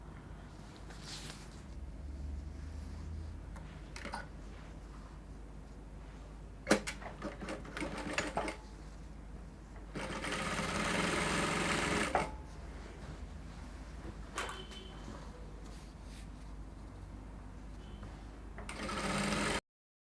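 A sewing machine stitches velvet bias onto a dress waistline in short, rapid bursts of whirring needle sound separated by pauses and fabric handling, the longest run lasting about two seconds.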